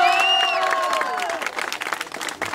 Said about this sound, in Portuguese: salva de palmas pra batalha